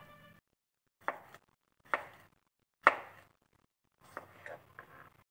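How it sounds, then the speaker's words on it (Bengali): A knife chopping a tomato into small pieces on a board in a home kitchen for a fish curry. Five or six crisp, separate knife strikes land close by at uneven intervals, with quiet pauses between them. "এবার টমেটোটাকেও কুচি করে কেটে নেব।"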